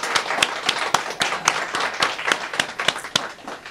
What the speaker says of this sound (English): let's give a round of applause for each and every one of you